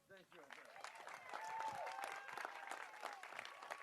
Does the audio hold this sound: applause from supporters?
yes